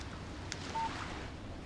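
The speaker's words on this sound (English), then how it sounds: "Text message from Barry." In the Alan Wake video game, a phone text message alert gives a single short electronic beep over a quiet hum of background ambience.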